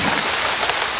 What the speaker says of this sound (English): When they meet the great bulk of the mountain, the clouds are cooled and a gentle rain falls.